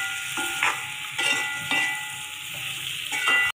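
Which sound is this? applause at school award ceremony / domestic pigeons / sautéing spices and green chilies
sautéing spices and green chilies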